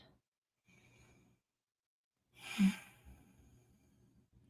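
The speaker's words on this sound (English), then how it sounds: "Let me take a couple deep breaths in and out." A person takes a slow, deep breath and lets it out, with one breathy exhale swelling up after a quiet inhale, heard close with no talking.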